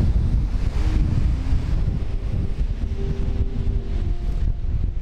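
Strong gusting wind roars across the microphone at Cape Greco in Cyprus as big waves surge and crash against the shore, a loud, continuous, buffeting wash with no voices.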